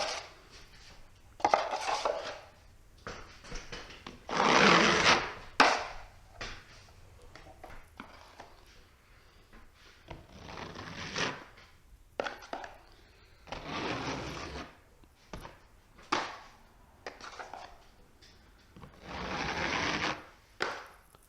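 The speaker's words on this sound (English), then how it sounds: "This is a blue steel 14-inch taping knife." A blue steel 14-inch taping knife skims compound across a ceiling in a 16 by 30 room, giving repeated scraping strokes in bursts of a second or two, separated by short pauses, close and fairly loud.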